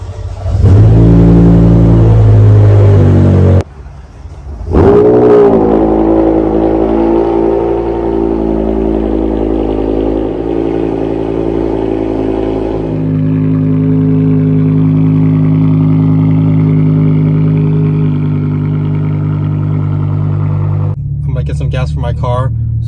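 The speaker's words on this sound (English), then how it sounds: "Let's go ahead and do a cold start." A BMW M5 engine cranks and fires up loudly on a cold start, revs sharply, then settles into a steady, high idle that gradually lowers before a brief rustle at the end.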